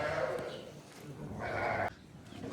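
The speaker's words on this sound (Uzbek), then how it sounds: "Xullas, qo'ylar, qo'chqarlar." Sheep and rams bleating in a pen during feeding time, several loud nearby calls overlapping in bursts, with farmyard noise and some talk underneath.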